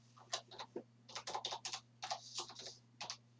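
Typing on a computer keyboard during an online test, a run of quiet, irregular key clicks in short bursts over a steady low electrical hum.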